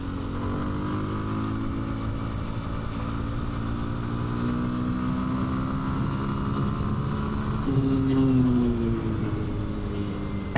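A 2026 Kawasaki KLX230 Sherpa S motorcycle rides a highway off-ramp, its small single-cylinder engine droning steadily and loudly up close, rising and falling in pitch as the rider changes speed, with wind noise underneath.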